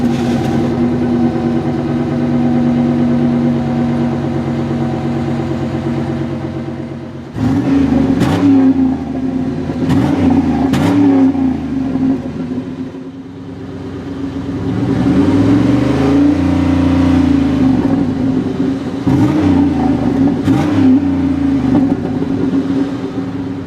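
A 2008 Pontiac Grand Prix GXP V8 engine idles loudly and steadily, then is revved in repeated sharp blips with falling, burbling exhaust notes, and closes with longer sustained revs.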